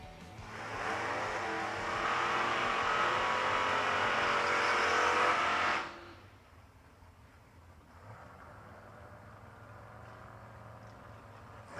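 A Mustang and a Camaro race down a drag strip, a loud roaring engine surge lasting several seconds before cutting off abruptly, leaving a faint distant rumble and no talk.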